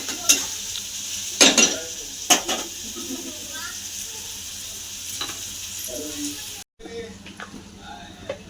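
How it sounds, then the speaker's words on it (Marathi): Onion and tomato sizzle and fry in a pan for a soybean dry curry, with repeated scraping clinks of a spoon stirring against the metal and someone talking over the steady hiss. "कांदा टमाटो पूर्ण लाल होईपर्यंत परतून घेऊ"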